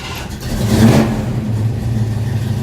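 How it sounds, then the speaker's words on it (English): A car engine cranks over and catches, then revs briefly before settling into a steady mid-pitched idle, close and loud with no talking. "and I start my car"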